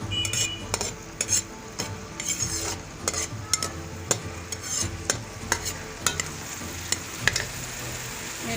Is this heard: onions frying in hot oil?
yes